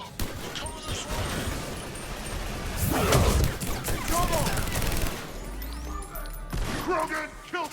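Mass Effect 3 combat on the Citadel, with rapid gunfire and crashing impacts building to a loud peak midway before thinning out, while voices call out over the fighting.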